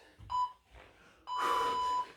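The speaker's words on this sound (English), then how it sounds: "Here's your beeps." A workout interval timer gives two electronic beeps, a short one followed after a pause by a longer, louder tone, alone without speech.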